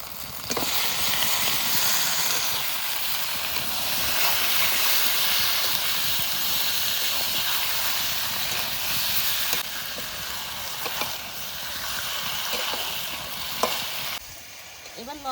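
Chicken meat tipped into fried spice paste in a pan for a thin village-style country chicken curry with new potatoes, a loud, steady sizzle and hiss with stirring scrapes over the full length.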